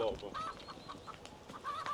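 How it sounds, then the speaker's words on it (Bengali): Local village chickens in a Dutch countryside setting cluck softly in short, scattered bursts. They sound faint and somewhat distant over quiet ambient noise. "এখানে একদম দেশি মুরগি, দেশি ছাগল"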